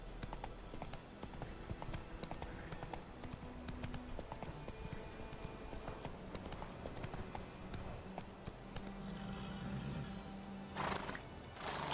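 A horse in a video game clip-clops at a gallop with repeated hoofbeats, and a short whinny rises near the end, set against a quiet game soundscape.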